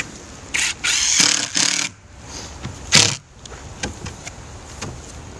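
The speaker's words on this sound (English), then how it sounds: "So I use 1 5/8 exterior deck screws to make the boards go" A drill drives 1 5/8 inch exterior deck screws into brackets holding backyard rink boards, whirring in a couple of short bursts with brief pauses, followed by softer clicks and knocks close by.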